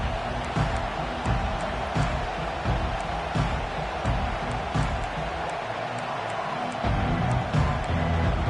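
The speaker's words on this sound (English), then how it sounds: "This crowd bringing the energy and noise early." An American football stadium crowd keeps up a constant broad roar through a game, loud and steady with faint rhythmic thumps and swells.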